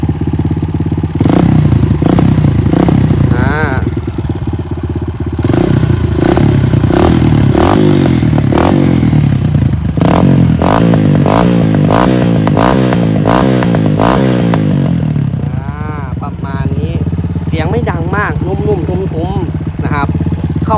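A 2020 Kawasaki KLX140G dirt bike engine idles loudly up close, then revs up and down repeatedly with clattering mechanical noise, and a voice talks over it briefly.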